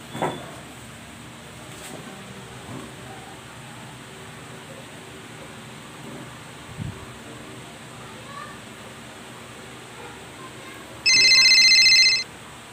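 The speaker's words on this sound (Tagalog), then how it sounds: "tatawagan ko muna yung Mrs. ko" A telephone rings briefly near the end, a short electronic ring tone following a quiet stretch with faint background noise and a few scattered low thumps.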